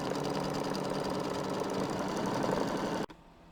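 A home embroidery machine stitches the quilting pattern of a haunted house design, a steady rapid mechanical whirr running continuously and fairly close, then stopping abruptly near the end and leaving quiet room tone.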